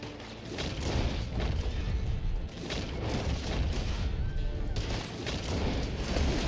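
Rapid gunfire from an enemy shooter in Red Dead Online, dense bursts of shots and booms that run nearly continuously, loud and close, with no talking.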